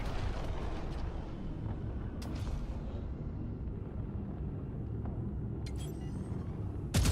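Disruptor laser cannons fire at bots in a space shooter game over a constant low engine rumble, with a few sharp, crackling blasts standing out briefly against the drone.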